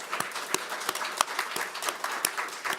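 A church congregation at a Wednesday evening service gives an encouraging round of applause, with scattered claps forming steady, moderately loud clapping for about three seconds and no voices heard.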